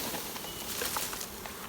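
A swarm of honey bees hums softly inside a wooden hive box, a faint, diffuse buzz with light scattered rustling over nearly two seconds.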